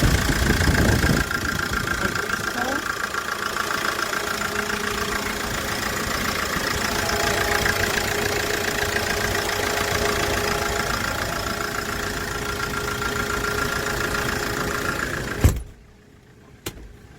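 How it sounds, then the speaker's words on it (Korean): A Hyundai Porter 2 double-cab one-ton truck engine idles steadily close by, a constant low rumble with a faint rhythmic knock, ending abruptly with a clunk and near silence. "포터2 엔진 내부인데요 보시면 소리 좋고요"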